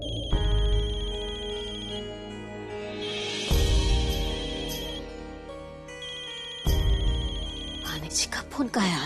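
Telephone ringtone chimes in a repeating electronic melodic pattern, fairly close, with music and voices from a Hindi TV drama scene around it.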